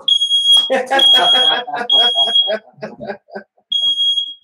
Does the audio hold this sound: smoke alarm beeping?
yes